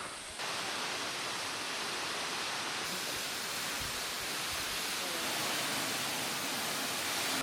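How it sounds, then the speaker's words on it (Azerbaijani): The Afurca waterfall, a small cascade, pours as a continuous soft hiss of falling water, steady and fairly faint from start to end with no other sounds over it. "Afurca şəlaləsi budur."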